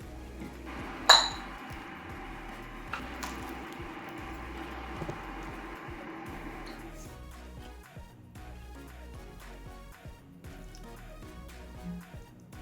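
A ladle clinks against a pot and bowl as Korean dried pollack soup is served, a sharp clink first, then softer scraping and small knocks and drips in a quiet kitchen.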